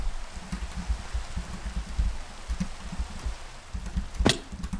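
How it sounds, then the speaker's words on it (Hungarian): Steady rainfall in a video game, a dense patter of drops with some louder taps and one sharp hit near the end, heard alone at moderate level. "csak az eső"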